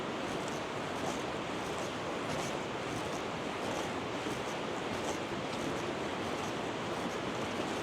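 A river runs at Port Cornaa on the Isle of Man in a constant, moderately loud rushing wash with slight wind, and no one speaks.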